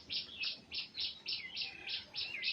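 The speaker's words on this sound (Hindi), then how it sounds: "उड़ती हुई चिड़िया कोयल की कुहकुहाहट को देखें" A koel calls in the open air, about nine short bright rising notes repeated at a steady rhythm, moderately distant and clear with no talking.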